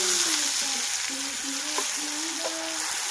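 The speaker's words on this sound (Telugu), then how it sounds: "ఇది బాగా బ్రౌన్ కలర్ గా ఫ్రై అవ్వాలి." Onion paste frying in a pan for chicken gravy, a soft steady sizzle with faint scraping at moderate volume and no talking.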